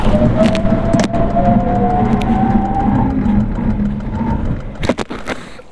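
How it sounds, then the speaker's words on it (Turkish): A Peugeot e-308 GT electric car brakes hard from about 172 km/h, its drivetrain whine falling in pitch under loud, close road and wind roar, which eases off and ends with a few sharp knocks as the car stops. "Şimdi şurada bir fren testi yapmak istiyorum tam gazda."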